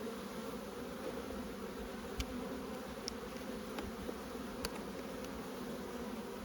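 A Buckfast honeybee colony buzzes steadily during a hive inspection, a soft, continuous droning hum with a few faint clicks and knocks scattered through it.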